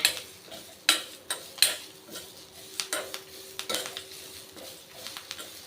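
Spices and fresh coconut dry roasting together in a pan for Navaratri sundal powder, with a spoon clattering and scraping against the metal in sharp irregular knocks and scrapes, close and fairly quiet, no talking.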